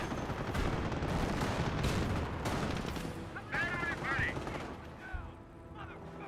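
A Panzer IV tank fires during a Company of Heroes battle, with heavy booms and crackling gunfire in a dense, continuous din, and a voice heard in the mix.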